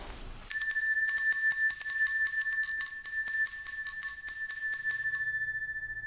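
A hand bell rung inside a castle gives a loud, bright, continuous metallic jangle of rapid repeated strokes for about five seconds, then a ringing decay with no talking.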